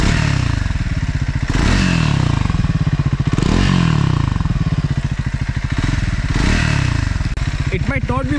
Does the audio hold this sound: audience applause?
no